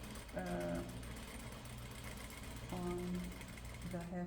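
A sewing machine stitches a seam on Peter Pan collar pieces, running in short mechanical bursts of rapid rhythmic whirring with a steady motor hum underneath, close and fairly quiet.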